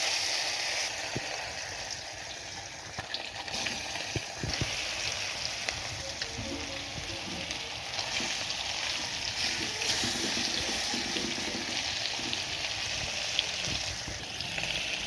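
Fish frying in very hot, smoking oil, a steady close sizzle and crackle that holds for the whole stretch, with faint scattered pops and no talking.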